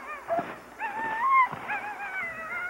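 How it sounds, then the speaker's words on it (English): Sled dogs whine and whimper in rising, wavering cries before being harnessed for a run in Wisconsin, several overlapping voices close by with no talk. "We better get these dogs harnessed up before we wake up the whole town."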